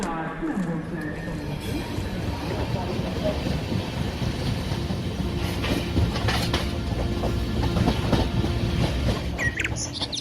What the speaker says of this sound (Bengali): পরদিন দুপুরে সে ট্রেন ধরে রওনা দিল কাশীপুরের উদ্দেশ্যে